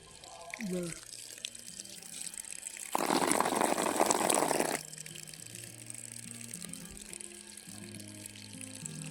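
Water sprays in a loud, steady burst for a couple of seconds onto fresh plaster walls of a house under construction, with someone talking before and after.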